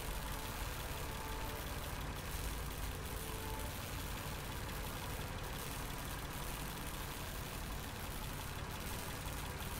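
Diesel generators run in a shed in the video game Lost Horizon, giving a steady, even engine drone that holds unchanged throughout with no voices.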